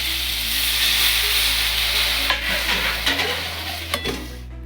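Chicken pieces being cooked for momo get stirred in a pan over a constant sizzle, with a low hum underneath and a few scraping knocks of the utensil near the end.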